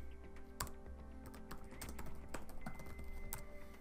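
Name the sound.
typing a search query on a computer keyboard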